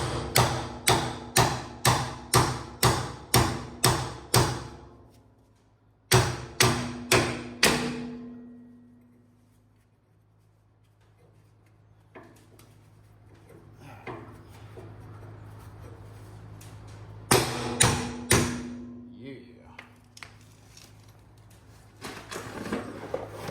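Steel hammer tapping a part into place on a truck engine in a shop, rapid ringing bursts of close, sharp strikes, then a quiet pause with faint shuffling before another series of blows.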